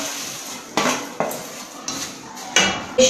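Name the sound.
crispy fried gram-flour pearls for motichoor ladoo being stirred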